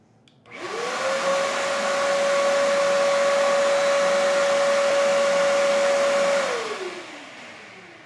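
Ridgid 3.5 horsepower 6 gallon shop vac switched on, spinning up quickly into a steady loud whine and airy roar, running for about six seconds before winding down, with no talk.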